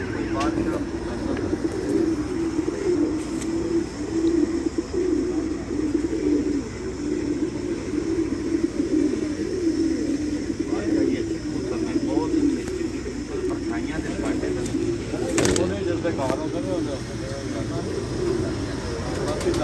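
Pigeons cooing on a rooftop in Jalalpur Bhattian, Hafizabad, soft repeated coos and wing flutters under continuous nearby talking, with faint traffic in the background.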